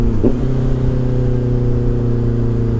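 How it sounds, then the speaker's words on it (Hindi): A Honda CBR 650R motorcycle engine drones loudly and steadily at close range, with one quick rev blip near the start as it shifts gear without the clutch. No voices. "क्लचलेस अगर आप शिफ्टिंग कर रहे हो तो बहुत अमेजिंग साउंड आता है"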